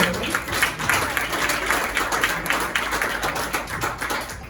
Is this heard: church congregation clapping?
yes